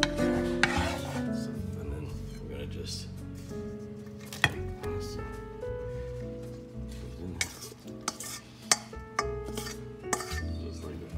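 Venison meatball mixture being stirred and moved around in a dish before going into a 420-degree oven, with scattered clinks and scrapes of a utensil against the dish beneath steady background music.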